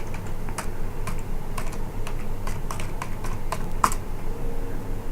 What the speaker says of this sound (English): I am putting in the password.